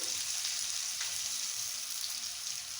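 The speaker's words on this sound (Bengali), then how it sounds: "একটু লবণ দিয়ে একটু আলুগুলো একটু ভেজে নেব।" Potato pieces frying in a pan with turmeric and salt, giving a continuous soft, even sizzle at low level with no talk.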